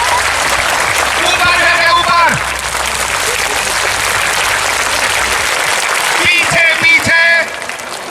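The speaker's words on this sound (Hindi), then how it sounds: "आप हाथ आगे करके बजाइए।" A hall audience claps with hands held out in front, a loud sustained patter of applause running the whole time while a man calls out directions over it.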